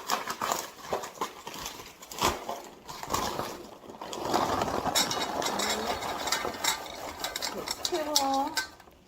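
Wet dog food and dry kibble are stirred together in a bowl, giving repeated close scraping, clinking and squelching strokes in an irregular rhythm, with a voice briefly audible near the end.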